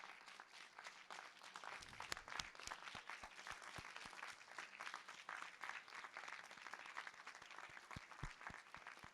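Sustained audience applause at a doctoral hooding ceremony, as graduates' supporters stand to be honoured, with dense steady clapping from a large crowd filling the hall throughout.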